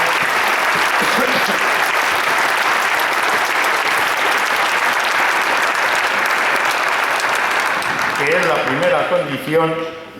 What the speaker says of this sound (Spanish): También se merecen el aplauso